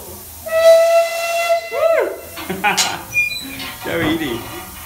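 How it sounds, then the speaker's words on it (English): A steam whistle is pulled at an outdoor art festival on an island, giving a bright tonal blast that rises and falls, with shorter whistle bursts, hissing steam and people talking and cheering around it. "Go on, do the whistle, Edie."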